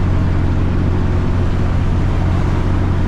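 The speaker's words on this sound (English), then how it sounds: "I figured I'd at least let you enjoy the sound of the truck for a little bit" A cabover truck engine drones loudly and continuously from inside the cab while driving in South Florida traffic, a low steady rumble with road noise and no voices.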